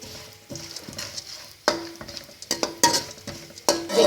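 Panjiri ingredients shallow fry in a pan with a soft, patchy sizzle, broken by sharp clicks, pops and spoon scrapes against the metal at close range.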